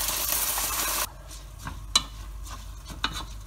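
Rice sautéed in ghee in a pan, starting with a loud steady sizzle that drops off, then quieter frying with a few sharp scraping stirs of a spoon against the pan, close up.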